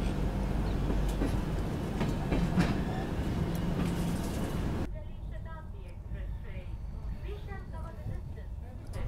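Kalka Shatabdi Express runs just after leaving the station, a steady rolling rumble and clatter heard from inside the coach, dropping to a quieter hum midway while people talk.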